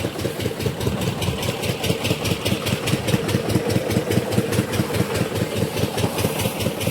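A small engine runs a water pump close by at a tractor washing service, thumping in a fast, regular rhythm with a rattling mechanical edge, no speech.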